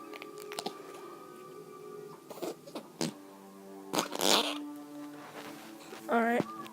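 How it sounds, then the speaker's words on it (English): Squelchy fart-like noises pressed out of flarp putty, a few short wet bursts spread across the clip with a longer squeal near the end, close and fairly quiet, with some voice-like sounds in the background. "Alright, was the last fart."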